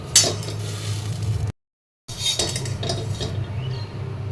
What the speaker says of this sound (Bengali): দেখো এইভাবে টিফিন কোটোটার মধ্যে সাজিয়ে নেবো সিমাইটাকে।